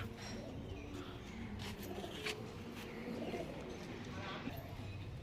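High-flying Giribaz pigeons coo at a loft, soft and somewhat distant, under steady outdoor background noise with faint voices.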